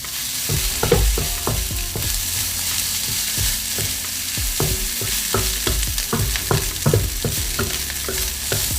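A metal spatula scrapes and clacks rhythmically against a wok over a steady sizzle of pork fried rice, close up and without talking.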